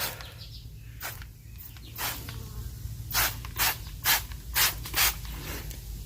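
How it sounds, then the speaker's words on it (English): Several short hissing bursts of iron fallout remover sprayed from a trigger bottle onto car paint, the first few spaced out, then a quicker run of five or six, over a low steady hum. "So I'm going to just spray this around the affected areas."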